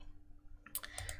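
A computer mouse clicks to save a file: a brief burst of a few sharp, close clicks after a moment of near silence, with no talking.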